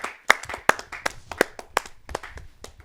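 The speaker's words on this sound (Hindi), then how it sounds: "आइए जोरदार तालियों से उनका स्वागत" An audience at a Hindi poetry gathering claps to welcome a poet, with a few distinct sharp claps and a scattering of lighter ones in an uneven rhythm that fades out over a few seconds.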